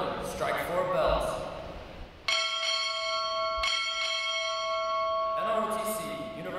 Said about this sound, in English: Strike four bells.